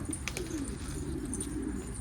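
Soft cooing of a pigeon close by, a breeding-quality homing bird, low murmuring calls running steadily over a faint background hum, with a few brief higher chirps.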